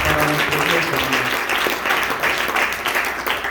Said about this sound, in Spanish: Dele palmas a Dios